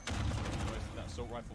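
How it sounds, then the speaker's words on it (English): Rapid assault-rifle gunfire in a Call of Duty match, a quick dense burst of shots heard under an excited commentator's voice. "That assault rifle sadly cut down in a hail of gunfire there."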